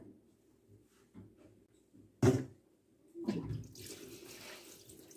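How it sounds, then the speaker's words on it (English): Cold water from a kitchen tap runs into a very large bowl after a sharp knock, building into a steady splashing rush that continues to the end. "I am going to go ahead and fill this very large bowl with some really cold water from the tap."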